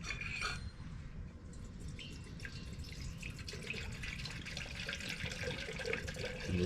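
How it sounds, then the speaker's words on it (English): Water trickles and splashes into a metal percolator, a steady close pour that continues over the whole stretch. "We're going to add our water."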